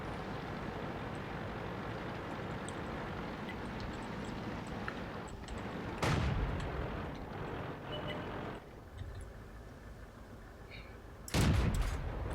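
In World of Tanks, a tank gun fires two heavy booming shots several seconds apart over a steady rumbling engine and battle ambience.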